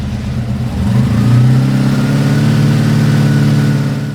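Motorcycle engine under tachometer repair revved once from idle: a steady low hum rises into a louder, sustained rev that holds for a few seconds, close to the microphone, with no talking.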